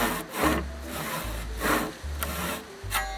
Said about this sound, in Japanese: そしたらまた万力に挟んで切り込んでいきます。